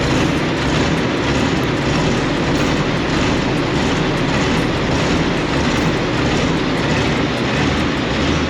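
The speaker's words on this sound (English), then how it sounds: "I'll leave a little bit of silence so you can enjoy the V8 startup" A Claas combine harvester's V8 engine, starting and running with no emissions control, gives a loud, steady, broadband mechanical roar that holds level for several seconds, with a faint repetitive ticking over the top and no voices.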